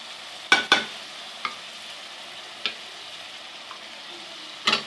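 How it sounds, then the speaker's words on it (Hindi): Radish curry with yogurt fries gently in a pan, a quiet hiss punctuated by several sharp spoon scrapes and taps spaced a second or two apart, with no voices. "हल्की सी भुनाई करेंगे इसकी हम"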